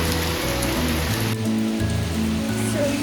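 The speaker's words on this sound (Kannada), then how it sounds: "ಮಳೆ ಬರ್ತದೆ." Steady rain pours down at a home, a constant dense hiss and patter close by with no voices, holding at an even level throughout.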